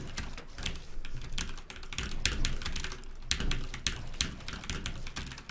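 Rapid clacking of keys on a mechanical keyboard with red switches, a fast irregular stream of light clicks close to the listener, with no talking.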